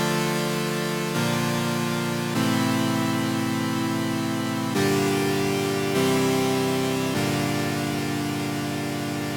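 Sustained chords on a synth pad change every second or so in a slow progression, full and steady, with no voices.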